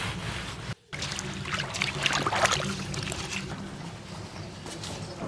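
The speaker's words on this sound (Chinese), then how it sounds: "粽叶煮变色，捞出来洗一下。" Boiled zongzi bamboo leaves rinsed in water by hand, a close, busy wash of sloshing, rubbing and trickling that runs the whole time, with a brief gap early on.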